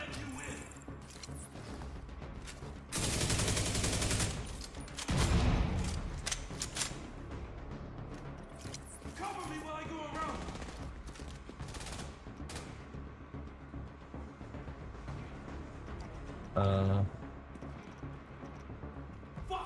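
Division 2 gunfire in the Battle for Brooklyn content, with scattered bursts of automatic shots, explosive crashes and mechanical clatter across a busy game soundscape, often under a player talking.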